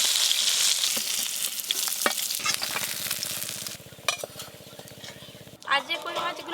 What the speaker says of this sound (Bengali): আর যে কই মাছগুলো আছে একবারেই ভেজে নেব সব